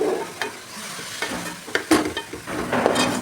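A beetroot mixture sizzles in a pan while a spoon stirs it, sending up close, uneven scrapes and clatters over a constant hiss of frying, with no voices.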